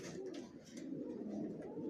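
Pigeons cooing in a racing-pigeon loft holding tagged, vaccinated young racer birds, a steady low murmur of overlapping coos close by with no talk.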